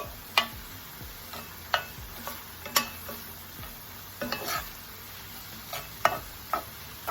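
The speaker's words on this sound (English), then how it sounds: "And give it a good stir around" A spoon stirs vegetables and parsley sautéing in a pan for Cajun dirty rice, making regular clacks and scrapes against the pan over a low, continuous sizzle, with no talking.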